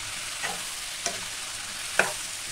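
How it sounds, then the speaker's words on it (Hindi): Potato and brinjal curry sizzles in a covered pan while a spoon stirs it, giving three soft scraping knocks over a continuous frying hiss. "सब्ज़ी को भी बीच में हमें चलाते रहना है"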